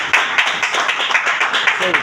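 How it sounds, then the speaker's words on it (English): A crowd at a record label launch event in Lagos breaks into dense, continuous applause that blends with voices in the room. "Please a round of applause"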